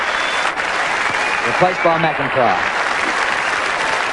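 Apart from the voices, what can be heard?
crowd applause at Australian football match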